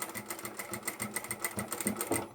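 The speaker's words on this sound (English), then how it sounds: "I'm just going to sew right in the ditch of the seam." A sewing machine stitches along the seam of a tapered toiletry bag, its needle running in a steady, fast rhythmic chatter that sounds close and clear, with no talking.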